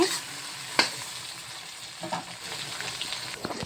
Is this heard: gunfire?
no